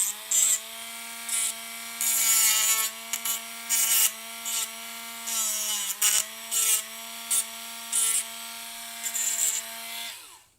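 A Dremel rotary tool grinds on a toy part, its high-speed whine holding steady while repeated short bursts of abrasive rasping come and go as the bit touches the piece, then spins down.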